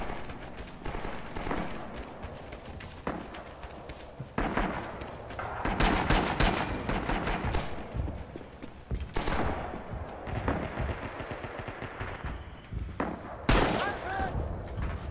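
Rapid gunfire and explosions in a Rising Storm battle while defending with a Browning Automatic Rifle, sharp cracks near and far in irregular bursts over a constant din, with a player talking at times.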